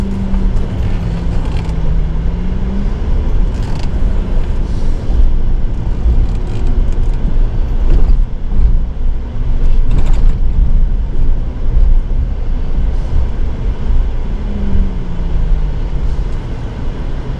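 A car drives through the streets of Baton Rouge, giving a steady, loud rumble of engine and road noise with rising and falling low engine tones, heard close and continuously with no talking.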